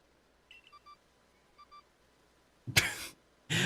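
A phone beeps in the Pokemon Legends Arceus video game, two short chirping tone pairs, faint and clean, followed by a couple of louder bursts of noise near the end.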